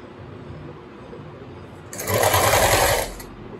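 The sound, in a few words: sewing machine stitching fabric edge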